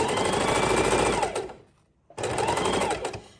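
A sewing machine stitching trim onto fabric for a junk journal cover, a fast steady mechanical whirr of needle strokes, close and loud, pausing briefly before starting again.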